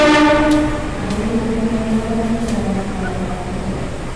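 A Pasundan Tambahan line train pulls into a station, its horn blaring loudly and close at first before settling into a steady rumble of wheels and cars rolling past.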